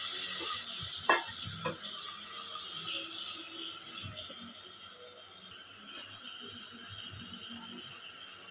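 Whole garam masala, chili and onion sizzling in hot oil for a Bengali tempering in a rice cooker, a steady bright frying hiss with a few stirring clinks, close and continuous, no one speaking.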